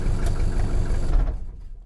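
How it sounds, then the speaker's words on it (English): An old diesel Mercedes engine rumbles and rattles loudly nearby, then cuts out abruptly as the vacuum shutoff kills it, its sound quickly dying away. "Let's see if the vacuum shutoff will work."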